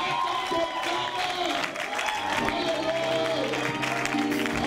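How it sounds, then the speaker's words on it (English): A church congregation in Ghana claps and cheers to welcome a visiting bishop, a loud, sustained wash of applause with crowd voices mixed in. "with a big, big, big clap of faith, let us make Bishop Tom Press"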